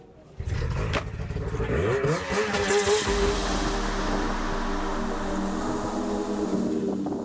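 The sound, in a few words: snowcross snowmobiles racing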